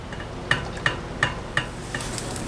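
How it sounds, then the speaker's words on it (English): A spoon stirs a melting salve of mint oil, beeswax and peppermint essential oil, making four evenly spaced light clinks against the container over a steady background hiss, near and clear with no talk. "And now we stir."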